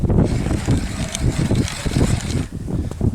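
Strong gusting wind buffeting the microphone on a frozen lake, loud rough low roar that surges and drops, with occasional faint flapping and creaking, no voices.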